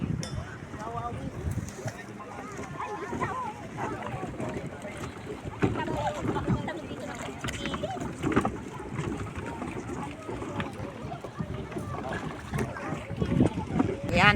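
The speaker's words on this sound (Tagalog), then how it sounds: "transparent bangka din sinasakyan ng mga yan" A transparent bangka, a small outrigger boat, moving on open water at Boracay, with steady wind rush and splashing, loud and close throughout, and people talking over it.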